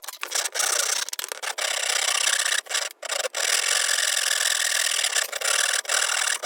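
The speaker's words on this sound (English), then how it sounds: "I think that's enough sawing." Continuous close rasping strokes of a saw on a cast metal coin, a steady rough grinding with brief pauses between passes.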